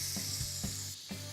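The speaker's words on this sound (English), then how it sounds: "carrots, and saute until tender" Onions and carrots sautéing in olive oil in a medium pot over medium heat, a steady close sizzle with a few soft stirring knocks, no voices.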